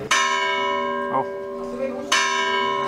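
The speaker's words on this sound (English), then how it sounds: "there's the church bell. I'm sitting right in front of a church here" A church bell in the village of Mijas Pueblo, Spain, rings loud and close, struck twice about two seconds apart with long ringing decay, and a person gives a brief startled exclamation.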